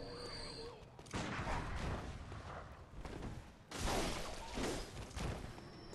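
Gunshots and bursts of gunfire in the dark gothic action game Bloodborne, loud and broadband, coming in two dense stretches with a brief lull between, with other game sounds mixed in.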